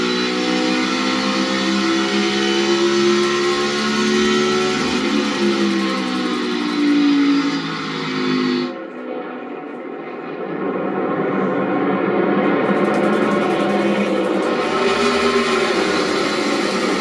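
Kyle Larson's NASCAR Cup car engine heard onboard at Phoenix, a loud steady roar that climbs in pitch, briefly backs off and dips, then builds again as it pulls back up to speed.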